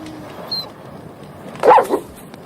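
A dog in a western film gives a short burst of barks and yips at middle distance over a quiet background, with no talking.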